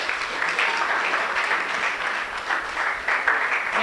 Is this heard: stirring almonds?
no